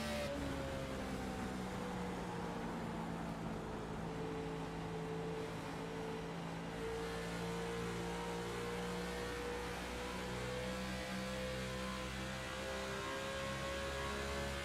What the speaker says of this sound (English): you can hear him really roll out of the throttle, crack into it, and kind of keep it steady